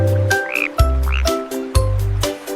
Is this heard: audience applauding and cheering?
no